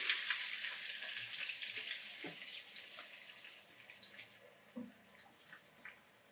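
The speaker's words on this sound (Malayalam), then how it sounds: "നമുക്ക് ആവശ്യത്തിന് ചിക്കനും കൂടി ഇതിലിട്ട് നന്നായിട്ടൊന്ന് ഫ്രൈ" Chicken pieces fry in hot oil for loaded fries, a bright bubbling hiss that is loudest at the start and slowly fades, with faint scattered clinks and no speech.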